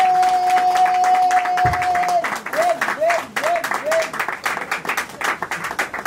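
A congregation at a Christian wedding claps and cheers, a dense, loud wash of applause that starts over a sustained tone and continues in a rapid, uneven patter with a few whistles in the middle.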